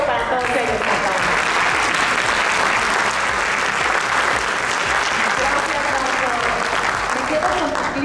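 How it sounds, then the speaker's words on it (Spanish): An audience applauds at a channel industry awards ceremony, sustained and even clapping from a large crowd in a hall, unbroken for the whole stretch. "Un aplauso para todos ellos."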